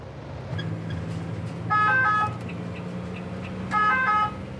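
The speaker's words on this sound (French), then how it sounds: "En entendant la sirène, certains véhicules, comme ce camion, se rabattent par réflexe sur la bande d'arrêt d'urgence." An emergency vehicle's siren on a French motorway near Montélimar sounds in two short, loud bursts about two seconds apart, over a constant drone of engine and road noise.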